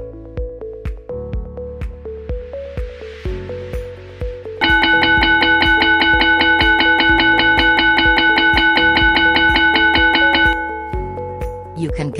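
An electronic bell timer plays a stepped chime melody, then switches to a loud, sustained buzzing ring for several seconds before the melody returns.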